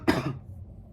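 One sharp, close cough from someone recovering from Covid-19 with a sore throat, a single harsh burst that fades quickly into quiet.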